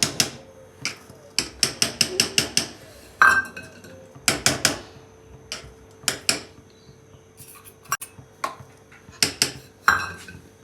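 Dishes, pots and pans handled in a household kitchen, with rapid bursts of clanking metal and clinking utensils in irregular clusters, close and fairly loud, no talk.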